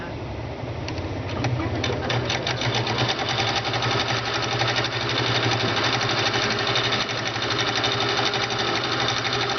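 Sewing machine stitching with a twin needle and edge joining foot: a rapid, steady mechanical chatter of needle strokes running continuously at close range, with no talk over it.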